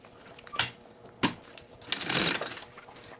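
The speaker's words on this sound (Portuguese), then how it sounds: "E vou passar aqui um pezinho de máquina, prendendo tudo." A sewing machine stitches a zipper onto synthetic fabric for a handbag panel. A few sharp mechanical clicks come first, then a short whirring run of stitches, close and moderately loud.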